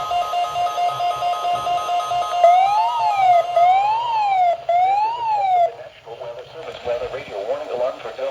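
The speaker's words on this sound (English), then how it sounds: "Weather radio warning alarm for" A NOAA weather radio warning alarm tone sounds loud and close as a warbling, rising-and-falling tone repeated three times, set against faint background noise and followed by quieter broadcast sound.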